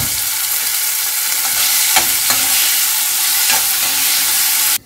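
Onions and tomatoes fry in a pan, producing a continuous, close, loud sizzling hiss with occasional stirring scrapes, ending abruptly.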